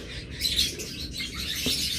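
A pair of turquoise split pet birds, the female heavy with eggs, gives bright high chirps and tweets over a steady background hiss, with one short louder call near the end.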